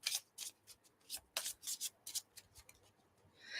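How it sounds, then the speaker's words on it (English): Tarot cards are shuffled by hand, giving a close series of quick, crisp riffling bursts and soft papery rubs at an uneven rhythm, fairly quiet and without speech. "Shuffling the cards the wrong way round."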